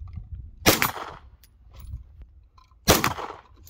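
Two sharp, loud gunshots at a shooting range, about two seconds apart, each a crisp crack with a short ringing decay, with faint clicks and mechanical handling noises between them.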